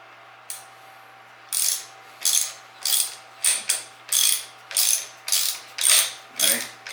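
A ratchet tightens a 5/16 bolt on a handlebar riser of a 2019 Suzuki Hayabusa motorcycle, with about ten regular rasping clicks in steady strokes, close up and alone.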